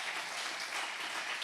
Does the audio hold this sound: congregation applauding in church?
yes